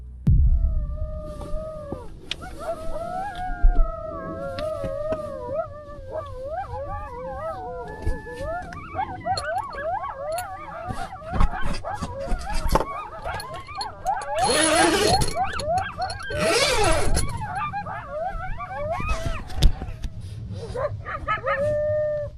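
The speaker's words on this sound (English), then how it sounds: "Coyotes out there or something." Coyotes howl and yip outside a campsite at night, a chorus of rising and wavering cries that overlap and build to a dense, wild peak before fading to a few last solitary howls.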